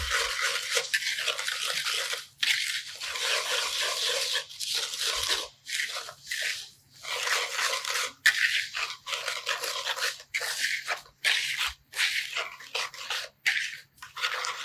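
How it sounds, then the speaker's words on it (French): Salmon gravlax marinade mixed in a bowl, steady wet scraping and swishing strokes in a rhythmic back-and-forth pattern with short pauses, close and moderately loud, no talking. "On mélange le tout."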